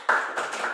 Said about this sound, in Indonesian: tepuk tangan dulu untuk teman kita ini.